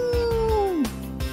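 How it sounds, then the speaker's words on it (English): A dog's howl in a Mug root beer advert, a single loud drawn-out voiced cry that slides downward in pitch over about a second, then lower vocal grunts follow. "The sound of the dog."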